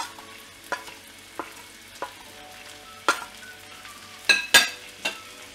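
Chopped vegetables coated in sambar powder and chilli powder fry in oil in a pan, a soft sizzle punctuated by several sharp scrapes and clanks of a spoon stirring, close and with no talk.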